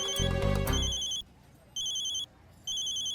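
A telephone rings in short electronic bursts, three rings separated by pauses, the first overlapping a brief loud low thump at the start.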